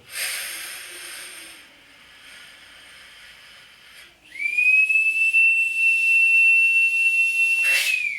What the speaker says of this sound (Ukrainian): Коли пожежний чує цей сигнал, це сигналізуємо про те, що повітря в балоні залишилось дуже мало